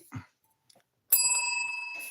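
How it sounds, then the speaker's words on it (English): A service bell rings once with a sharp, bright strike and a sustained ringing tone that slowly fades. A brief murmur is heard before the ring. "And they can ring the bell of service"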